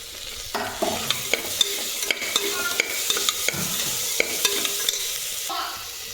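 Bay leaf, cloves and coarse ginger-garlic paste fry in hot oil, a steady close sizzle punctuated by repeated sharp clicks and scrapes of a spoon stirring against the pan.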